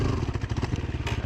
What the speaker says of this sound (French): Un petit donut pour la fin.